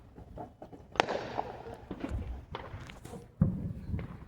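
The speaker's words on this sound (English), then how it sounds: "Here's some more fireworks activity" Fourth of July fireworks seen from a car on the interstate on the way home go off as a few distant booming pops, with sharp louder bursts near the start and toward the end over a steady rumbling background.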